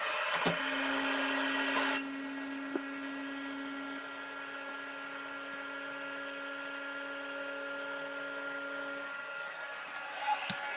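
A heat embossing tool for crafting runs steadily with a whirring fan hum and bright whine, starting with a louder burst and continuing at an even level for about ten seconds, close to the microphone, with no talk over it.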